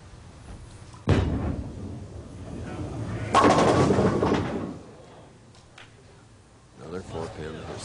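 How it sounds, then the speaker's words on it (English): Bowling ball crashing into pins during a 1991 U.S. Open professional bowling match, two loud broadband impacts a few seconds apart with the pins rattling, under an arena crowd and a commentator talking. "Now Weber is up, shooting in the 8th frame, a spare working, and trailing by 7."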